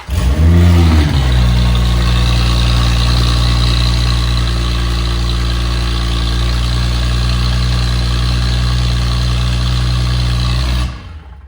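A BMW B58 engine with a newly installed downpipe cranks briefly, catches, and settles into a loud, steady idle, running close by until it cuts off at the end.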